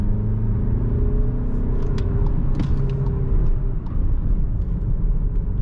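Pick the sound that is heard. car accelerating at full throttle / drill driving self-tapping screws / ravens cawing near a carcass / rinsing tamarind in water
car accelerating at full throttle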